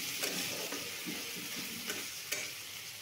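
Ginger-garlic paste stir-fried in a hot pan gives a steady, close sizzle, with a few scraping stirs rising above it.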